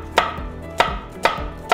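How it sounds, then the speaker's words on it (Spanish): Onion diced into small cubes with a knife on a cutting board: four sharp, evenly spaced chops close by, each with a brief thud, no talking. "Y la vamos a cortar en pequeños cubitos igual."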